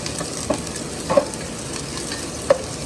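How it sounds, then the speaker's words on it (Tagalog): Ginger, garlic and onion sautéing in sesame oil in a pan for teriyaki sauce, a steady soft sizzle with a few sharp utensil clicks and stirring scrapes, close and moderately quiet, with no talking. "Magsasaute na tayo. Maglagay lang tayo ng sesame oil."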